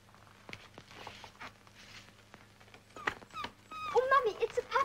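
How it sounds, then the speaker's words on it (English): A puppy whimpering, high thin yips and whines in a short burst toward the end after soft rustling, with light handling sounds, under faint background noise of an old 1934 film soundtrack. "it's a puppy"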